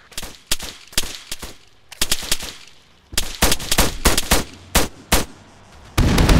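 Gunfire in a video game: rapid cracking shots in short bursts and single reports, loud and close, with brief pauses between volleys and a sustained heavier barrage at the end.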